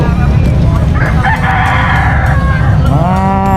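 Rhode Island Red roosters crow over constant noise at a livestock market in Lingayen, Pangasinan, with one long, loud call followed by another strained crow near the end.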